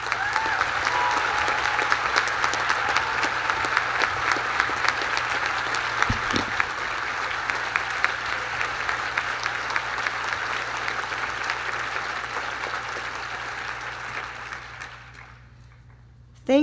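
Audience applause welcoming Lisa Nakamura as commencement speaker at the Reed College 2022 commencement, a sustained, even clapping from a large crowd that holds steady for about fifteen seconds before fading out.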